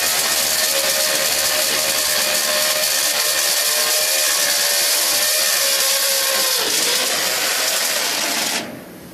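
A drill bores into a post-tensioned duct on a bridge, a loud, steady high whine that holds for several seconds, dips briefly in pitch, then cuts off at the end.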